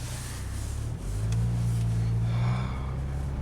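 A Saab car pulls away down a street on a cold day, its engine rising from a low idle into a steady, close drone as it accelerates, with no voices.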